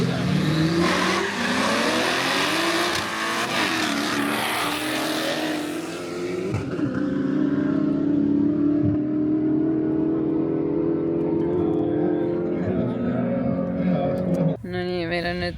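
Drift car engine revving hard and accelerating at a drift competition, a loud sustained roar with rising pitch sweeps and tire noise, steady throughout, with people talking underneath.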